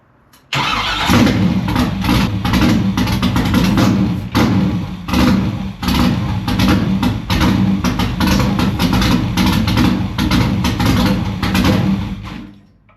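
A car engine in a BMW project build cranks and catches on a test start, running roughly with an uneven loud rumble and stumbling for about twelve seconds before it cuts out, with no talk over it.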